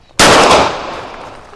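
A single loud, sharp gunshot at a shooting course cracks close by and rings out in a long decaying echo.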